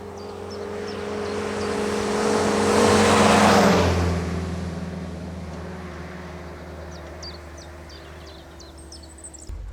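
A vintage Willys jeep engine swells as it drives closer, peaking loud near the middle, then fades to a low idle-like hum with faint birdsong chirping at the end.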